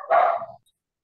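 A single loud, close dog bark indoors, one sharp half-second yelp that cuts off into silence.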